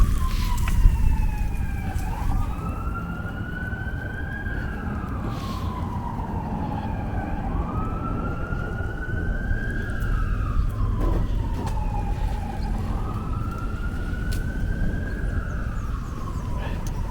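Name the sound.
fire truck siren passing on Upper West Side street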